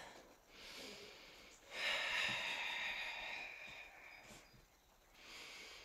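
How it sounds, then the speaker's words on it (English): Audible breathing during a plank in a wall-work functional fitness class: a long, airy inhale and exhale, close and soft, rising then fading, with quieter breaths before and after. "Take a nice deep breath"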